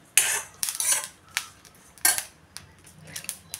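Fennel seeds crackling as they roast in a dry pan, with sharp irregular pops and ticks scattered across quiet gaps, some in quick clusters, close and fairly crisp.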